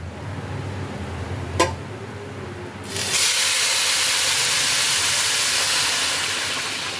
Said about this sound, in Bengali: এবার আমি এর মধ্যে অ্যাড করব গরম জল